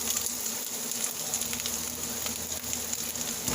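Butter sizzles steadily in a hot, slightly scorched skillet, a dense, even crackle that runs unbroken and close with no talking.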